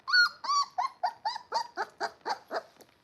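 Several dogs whimper and yip in a rapid rhythmic series of about ten close, loud whining cries in a home, with no talking.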